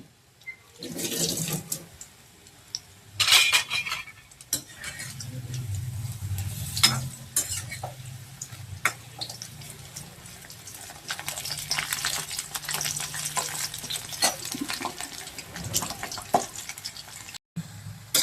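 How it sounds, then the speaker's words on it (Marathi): Hadga flower fritters frying in hot oil while being stirred, giving a steady low sizzle with scraping stir sounds and a few louder clatters, close and fairly quiet, no voices. "आता आपण ह्याला चांगले हलवून घेऊ"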